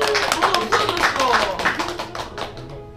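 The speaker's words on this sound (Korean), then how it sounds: "마지막 큰 박수 부탁드리겠습니다" Guests clap at a Korean first birthday party, a close, uneven patter of hands applauding over a few seconds, with a voice speaking over the clapping.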